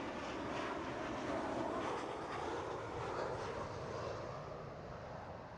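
A steady, loud jet roar of a landing airliner with broadband rushing noise, heard from an airport viewpoint in London, holding constant throughout with no voices.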